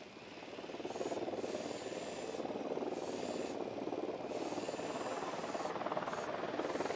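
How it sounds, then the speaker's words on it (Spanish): Helicopter in the video game Ghost Recon Wildlands, its steady loud rotor and turbine roar holding close and constant throughout, with no one speaking. "¡Se acerca un helicóptero al suelo!"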